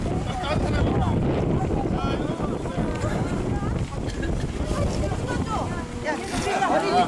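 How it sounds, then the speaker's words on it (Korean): Strong wind roars steadily across an outdoor swing bridge on a mountain in Wonju, loud broadband gusting buffeting the microphone throughout, with voices talking intermittently underneath. "바람이 많이 불어가지고"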